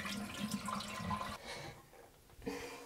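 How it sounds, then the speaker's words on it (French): A toilet is flushed during a test of a zero-waste, paper-free toilet setup. Water rushes quietly into the bowl, fades into a low trickle, and ends with a brief gurgle. "On retire la chasse d'eau."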